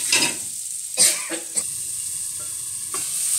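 Karonda berries cooking with salt in a pan, a low steady sizzle with a few sharp knocks and scrapes of a spoon against the pan early on.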